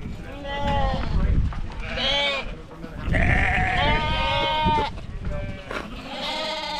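Wild Irish hill sheep packed into a full yard bleat repeatedly, several loud, overlapping calls close by, rising and falling one after another.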